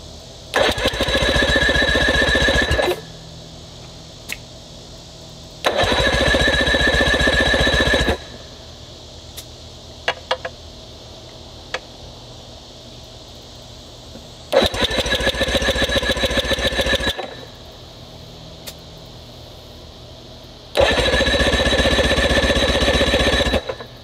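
Outboard engine cranked by its starter during a compression test, four separate bursts of several seconds each with quiet gaps between, loud and close.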